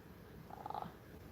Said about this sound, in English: this cat can lose a little weight